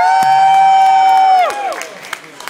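Audience cheering at a break dance competition in a club, a loud sustained crowd roar with whoops for about a second and a half that then drops away to scattered claps and shouts.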